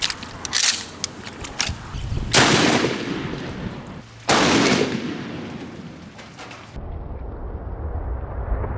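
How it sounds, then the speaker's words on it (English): A 1-ounce brass shotgun slug is fired into ballistic gel outdoors, a loud close blast that booms and echoes, with further heavy crashing bursts before the sound cuts off. "now let's shoot the ballistic gel. We're going to start out with the 1 ounce slug"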